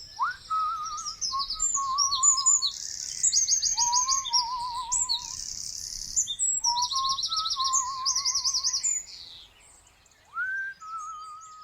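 Birds chirp and trill in bright, quick repeated phrases close by, mixed with a lower warbling whistle that seems to mimic them.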